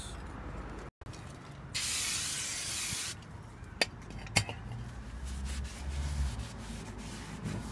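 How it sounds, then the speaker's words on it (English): An aerosol of brake and clutch cleaner hisses onto the front brake disc of a Vauxhall Vivaro van in one steady burst of about a second and a half, followed by quieter rubbing and a couple of metallic clicks. "Some brake and clutch, just to remove the dirty marks."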